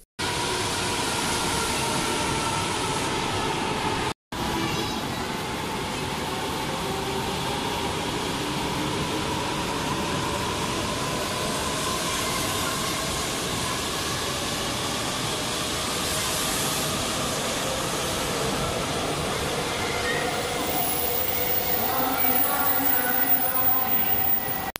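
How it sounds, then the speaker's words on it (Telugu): A double-decker Shinkansen bullet train in Japan makes a steady, loud rail rumble and broadband whoosh that runs unbroken for the whole stretch apart from a momentary cut near the start, with no speech over it. "ఇక్కడ ఇప్పుడు మీకు కనిపించేది డబుల్ డెక్కర్ బుల్లెట్ ట్రైన్"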